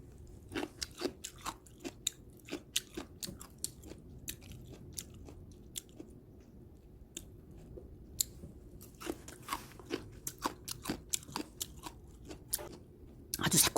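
Close, crisp crunching chews of homemade sauerkraut cabbage fermented in salt brine with sliced green chili, steady repeated bites throughout with no talking.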